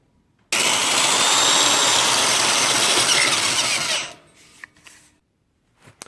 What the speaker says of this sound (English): So I'm going to use the step drill, which is this right here